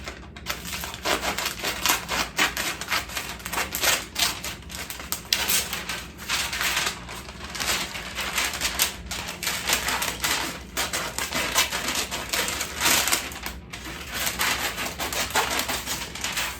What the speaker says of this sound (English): So I'm going to cut it in half, this piece.